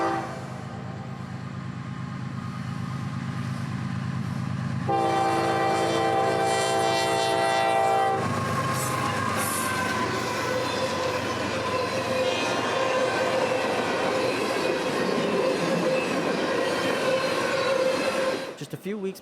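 Freight train 45 rolls through Dade City, Florida, its horn sounding loud and close with steady harmonic blasts, then heavy wheel and car rumble with squealing as it passes, continuing strongly until it cuts off abruptly.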